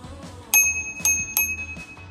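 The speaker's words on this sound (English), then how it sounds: "I don't think my bell works." A bicycle bell rings three times, short bright metallic dings at an uneven pace, during a ride along the Ohio River Greenway, with quiet background hum between rings.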